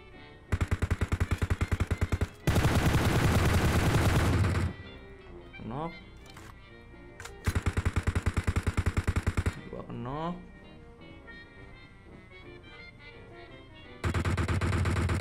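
Bursts of rapid automatic gunfire from PUBG Mobile crack out in loud sustained volleys, separated by quieter stretches with in-game effects, while players talk between the shots.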